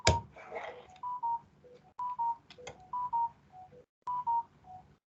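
A series of short electronic phone notification beeps in uneven pairs and singles, fairly close and clear, with brief gaps of quiet between the bursts.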